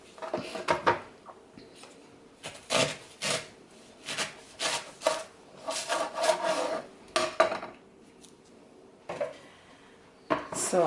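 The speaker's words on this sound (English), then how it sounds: "And then you cut it down the middle." A knife slices lengthwise through a leek on a cutting board, giving a run of close, irregular rasping and crunching cuts separated by short pauses.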